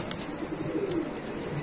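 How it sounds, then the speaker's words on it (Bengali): Low, soft cooing from a small group of pigeons, one Shorting and three German Seal birds, kept in a cage at a market stall, a murmuring continuous coo with faint background noise. "এখানে আছে চার পিস কবুতর একটা শার্টিং আর তিনটা জার্মান সিল কবুতর"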